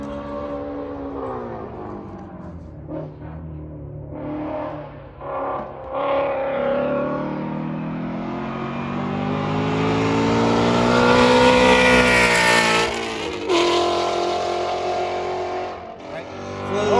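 A race car bedding in its brakes at Buttonwillow race track, its engine rising and falling through loud passes, accelerating, then easing off as gears change. Voices talk over the engine noise.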